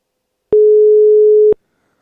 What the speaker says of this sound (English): That sounds like a European phone ring.